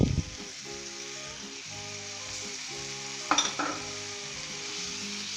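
Tomatoes sizzle as they hit a hot pan of baingan masala with spices, a steady frying hiss with spoon scrapes, and a louder burst of sizzling partway through, close and without talk.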